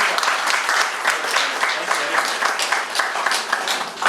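Loud, steady applause from participants at a teachers' training workshop, a crowd clapping in a continuous close wash with a faint rhythmic pulse and no pauses.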